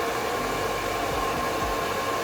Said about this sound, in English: look at how smooth my hair is blow drying from this blow dryer